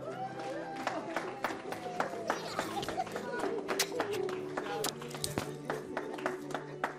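A church congregation claps at a prayer service, a dense patter of many hands that continues steadily throughout, with a voice talking over it.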